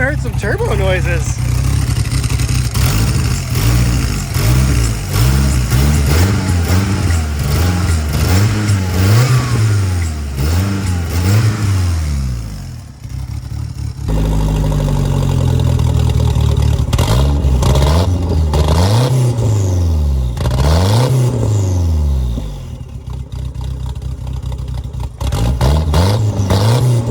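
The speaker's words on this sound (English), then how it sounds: "I think I even heard some turbo noises" A Ford Mustang engine revs repeatedly with turbo noises, pitch swooping up and down through several throttle blips, loud and close, with a brief drop partway and some talk mixed in.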